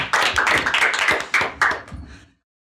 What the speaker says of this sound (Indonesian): Beri tepuk tangan dulu buat Kak Angel dan Bang Bo.